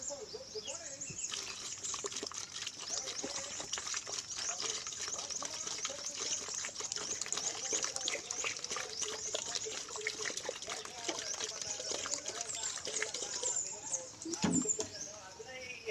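Water poured and stirred with disinfectant for banana-leaf treatment, a steady close trickle and splashy sloshing that runs continuously with small pattering sounds throughout, quiet and without talking.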